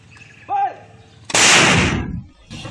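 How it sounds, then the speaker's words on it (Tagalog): After a brief short call, one loud army cannon blast booms out during a clash between soldiers and armed men, and its roar slowly decays over the next second. "Napilitang gumamit ng kanyon ang mga sundalo"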